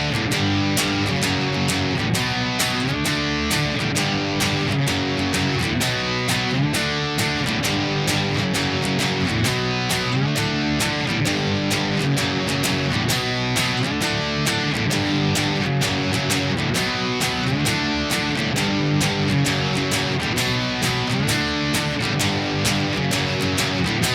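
A guitar solo on electric guitar, a dense, loud, continuous distorted line repeated over a driving rhythm, with no talking.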